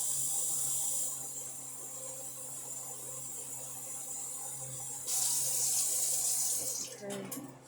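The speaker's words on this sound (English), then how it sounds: "let's add some water. And it could be the water from the sink" Cold water runs from a kitchen sink tap for plantain cooking, a steady hiss that surges louder near the end before cutting off, with faint kitchen clatter as the flow stops.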